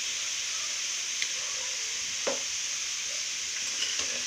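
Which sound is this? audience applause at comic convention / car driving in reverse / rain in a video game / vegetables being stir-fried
vegetables being stir-fried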